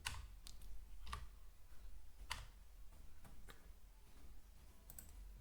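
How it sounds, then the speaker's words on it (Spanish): Keystrokes on an unfamiliar English-layout computer keyboard while writing PHP code, a scattered run of separate clicks and taps at an uneven pace over a steady low background hum, with no talking. "estoy trabajando con un teclado diferente y me cuesta muchísimo encontrar"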